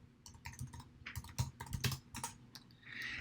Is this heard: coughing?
no